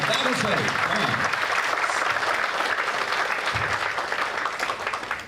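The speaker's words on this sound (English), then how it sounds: "And clap loudly." A large audience at a talk on dignity in death claps loudly and continuously, a thick wash of applause, with voices talking faintly beneath it.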